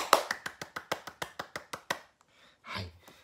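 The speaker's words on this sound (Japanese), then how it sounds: "日本から大きな拍手を送りたいと思います" A single person's hands clap about a dozen times in a steady, even rhythm, close and fairly loud. The claps stop partway through, leaving a brief murmur at the end.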